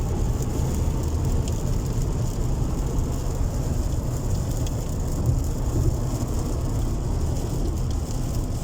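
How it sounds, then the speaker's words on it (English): Heavy rain pours down steadily in the Abu Dhabi desert on a hot summer day, a dense, continuous hiss with a low rumble beneath, loud and unbroken throughout with no voices. "you'll be amazed to see it's raining like crazy."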